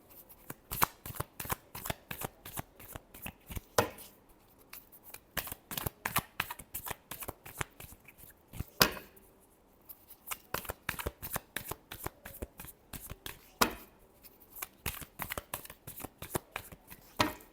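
Tarot cards being shuffled during a Scorpio reading: a long run of quick, crisp riffling clicks in steady bursts with a few short pauses, close and clear, with no talking.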